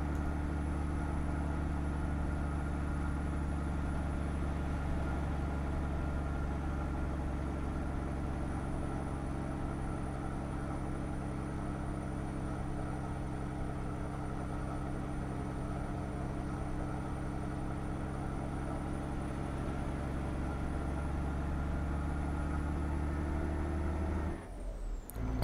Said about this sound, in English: listen to what this engine and gearbox are doing